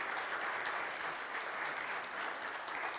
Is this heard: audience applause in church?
yes